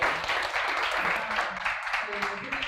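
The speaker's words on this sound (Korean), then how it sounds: "다시 한번 큰 박수" Applause from an audience at a local startup school lecture on investment strategy, a steady, fairly loud wash of clapping throughout, with some voices talking under it.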